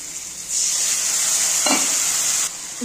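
Spice paste with salt and turmeric frying in a pan, a steady hiss of sizzling that swells for about two seconds, with a brief stirring scrape in the middle, close and fairly loud.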